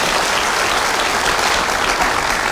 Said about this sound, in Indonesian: Ibu, kami persilakan tepuk tangan dulu boleh buat Ibu Eni Agung.